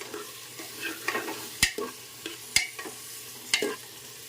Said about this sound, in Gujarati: એને વ્યવસ્થિત હલાવી લઈશું